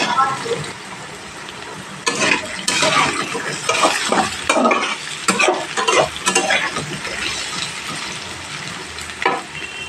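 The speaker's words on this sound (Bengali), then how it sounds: "এইভাবে নাড়াচাড়া করে দেখুন আলুটা অনেকটাই ভাজা হয়ে গেছে" Potatoes frying in a pan while being stirred, with irregular scraping strokes of a utensil over a continuous close sizzle, plus light metallic knocks against the pan.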